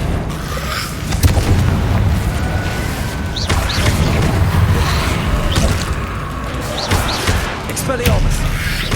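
Confringo fire spells go off in Hogwarts Legacy combat, giving several booming impacts and slams at uneven intervals amid other spell effects and battle noise, with voices in between.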